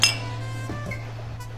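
Glasses clink once at a bar toast, a short bright chime ringing out briefly over a steady low hum, then fading into quiet room tone.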